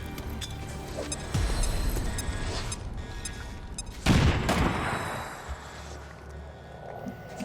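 A frag grenade thrown in XCOM 2 bursts in a loud explosion about four seconds in, its roar decaying over several seconds after earlier bursts of gunfire and rumbling battle noise.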